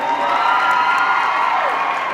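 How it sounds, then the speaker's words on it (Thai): An audience at a Thai promotional event for Oishi green tea and One Piece fills the space with sustained cheering and applause, a dense, steady wash of crowd noise with shrill shouts on top. "ขอเสียงปรบมืออีกครั้งนะครับ"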